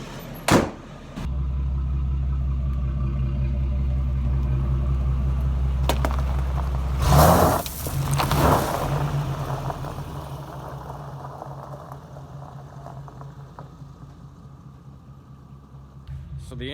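A 1986 GMC Caballero's engine idles with a steady low rumble that swells briefly as the vehicle pulls out in a yard, then fades to a quieter running hum.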